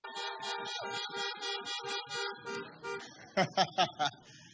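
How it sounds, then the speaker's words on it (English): A car horn toots in a rapid rhythmic pattern of short blasts, ending with four louder, sharper honks; the sound is fairly distant. "You got that horn honking good"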